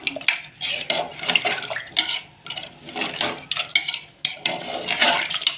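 Water splashes into a cooking pot of goat leg curry in uneven bursts, with light clinks of metal and a little background talk.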